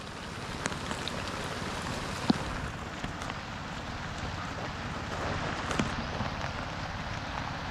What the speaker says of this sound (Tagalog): Oh, nag-uulan na.